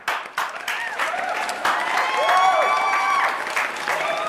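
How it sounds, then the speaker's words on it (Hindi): An audience gives loud, sustained applause welcoming a guest on a comedy chat show, with many hands clapping together alongside crowd noise, cheers and whistles that swell toward the middle and hold steady. "तो जोरदार तालियों के साथ स्वागत कीजिए पप्पू पॉकेट मार जी का।"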